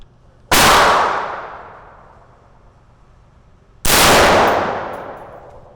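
Two loud, close firearm shots at a range, each a sharp blast with a long echoing decay, spaced about three seconds apart with quiet between.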